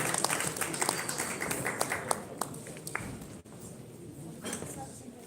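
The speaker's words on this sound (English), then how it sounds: "A round of applause, ladies and gentlemen, as I welcome him to the podium" Audience applause at an executive business dinner greets a speaker coming to the podium, a steady patter of many hands with scattered sharper claps that thins and fades toward the end, with some voices mixed in.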